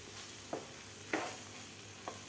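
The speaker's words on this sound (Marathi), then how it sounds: "आपण एकदा हलवून घेऊया आता आपल्याला हे दोन मिनटं भाजी शिजवून घ्यायची आहे" Amaranth leaf vegetable cooks in a pan, stirred with three brief scraping strokes over a soft, steady background sizzle; close and fairly quiet, with no talking.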